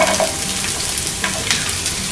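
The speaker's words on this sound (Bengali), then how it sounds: "এখন আমি এর মধ্যে দিয়ে দিচ্ছি একটা কুচনো পেঁয়াজ।" Chopped onion hitting hot oil in a frying pan for potato cutlets, giving a steady close sizzle with a few brief stirring scrapes and no talk.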